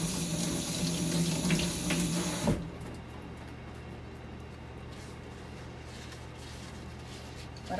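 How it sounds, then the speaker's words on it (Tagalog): Water runs hard from a kitchen tap to wash an item, a loud close splashing stream for a couple of seconds that cuts off abruptly, leaving a quiet room hum. "bago natin gamitin to, kailangan dapat hugasan"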